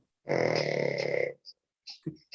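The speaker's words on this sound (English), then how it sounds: "called a pug snore" A pug dog snoring close by, one long rasping, buzzy snore followed by short snuffling breaths.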